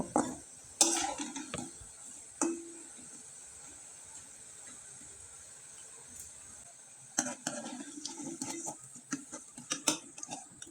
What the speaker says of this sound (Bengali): এভাবে আমি নেড়ে চেড়ে পিঠাটাকে মুসমুসে করে ভেজে নিব